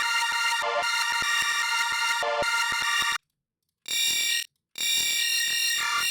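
A high-pitched electronic beat made with a pitch shifter, with dense bright tonal layers and sharp rhythmic clicks. It cuts out abruptly twice into silence before returning, loud with no talking.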